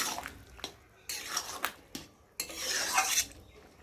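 Vegetarian soybean curry being stirred in a pan with a spoon, giving intermittent scraping and clinking bursts of metal against the pan, close and fairly quiet, with no talking.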